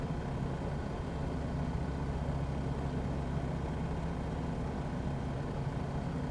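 A bush plane's piston engine in Microsoft Flight Simulator, flying over North East England, makes a steady, unbroken low drone that stays loud and even throughout.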